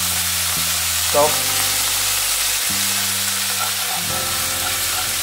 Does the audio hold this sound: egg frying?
yes